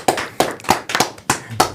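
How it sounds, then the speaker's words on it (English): A few people in a podcast studio clap up close, about seven sharp, uneven claps spread over a couple of seconds, with no talking. "We're going to have a round of applause for freedom."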